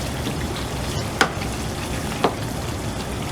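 Chicken and onion mixture frying steadily in a pan while a spoon stirs it, with two sharp scraping clacks standing out above the constant sizzle.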